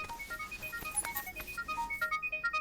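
A mobile phone ringtone plays a quick tinkling electronic melody of repeated bright tones, fairly faint and steady in an indoor scene.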